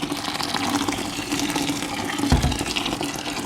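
Just-boiled water pours steadily into an elderberry wine mix to bring it up to two gallons, a continuous close splashing gush with a brief heavier slosh near the end.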